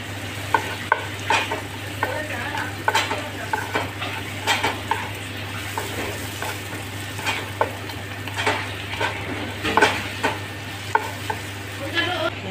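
Carrots and ginger frying in a pan are stirred with a utensil, giving repeated scraping clinks and light taps over a steady, low sizzle, close and moderately loud with no talking.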